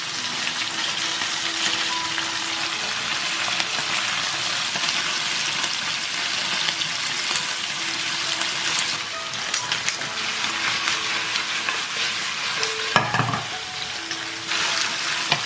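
Chicken frying in a flat pan after being turned to brown the other side, a continuous crackling sizzle with a short knock of a utensil partway through, no voices.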